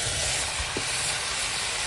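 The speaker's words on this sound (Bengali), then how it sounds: "দেখো খাসির মাংস রান্না হচ্ছে।" Goat meat curry with ground spice paste being stir-fried in a pan over a wood fire gives a steady, fairly loud sizzling hiss that holds evenly throughout, with no talking.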